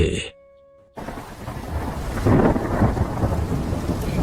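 Steady rain and rolling thunder from a cartoon about a rainy village day, a short quiet pause giving way to a loud, continuous downpour with a thunder swell midway, no talking.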